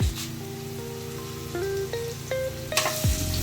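Dried red chillies fry in hot oil, giving a steady close sizzle with soft crackle throughout, joined near the end by a brief louder burst of spitting; a few tonal hums run underneath and no one speaks.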